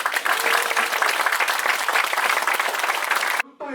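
Dense, loud applause from a crowd fills the opening ceremony of a political party's research institute office in Busan, sustained for over three seconds before stopping abruptly.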